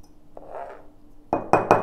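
Two cleaned glass jars clink as they are set down on a surface, first with a soft touch, then three sharp, bright knocks close together near the end. No one speaks.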